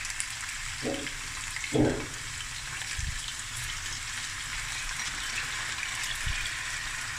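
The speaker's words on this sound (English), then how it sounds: "And then when this is done, I'm going to fry the fish." Snoek fish frying in a pan, a soft continuous sizzle with a few light clinks and knocks from the cookware along the way.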